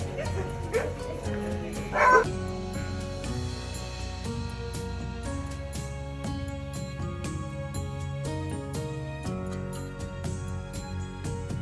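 Sled dogs at a dog sled camp in Alaska bark, yip and whine together in a loud, continuous, overlapping chorus close by.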